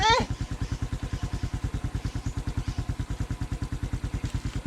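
A motorcycle engine chugs close by in a fast, even, pulsing rhythm while riding on a slippery, rain-soaked road, with a brief voice at the very start.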